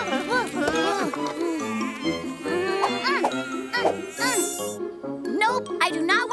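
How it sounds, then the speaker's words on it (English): Mosquitoes buzz in a cartoon forest, a thin insect whine running under busy cartoon music and character voices throughout. "There's lots of mosquitoes around,"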